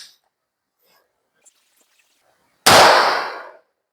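A single loud pistol shot at a 2x2 metal target on a 15-meter range cracks up close out of near silence, and its ringing tail fades over about a second.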